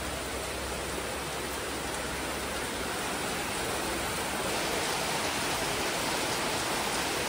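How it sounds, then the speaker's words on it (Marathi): Steady, dense rain hisses continuously throughout in the Konkan, even and unbroken, with no voices. "आज परत पावसानं हजेरी लावल्यानं असा"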